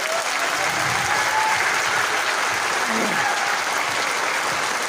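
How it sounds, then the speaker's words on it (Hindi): Loud, continuous applause from a seminar audience at a business meeting fills the whole stretch, dense and steady, with faint voices mixed in underneath. "जोरदार तालियां बजाइए"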